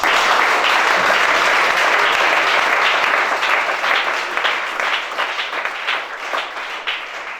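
Church congregation at a deliverance service bursting into loud sustained applause and clapping, a dense crowd sound that gradually thins and fades toward the end.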